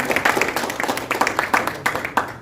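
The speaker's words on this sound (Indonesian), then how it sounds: "Kita berikan aplaus dulu untuk Pak Andreas." An audience at a Tangerang labour-office workshop on registering collective labour agreements claps for the presenter, a dense, steady burst of many hands clapping together that fills the room.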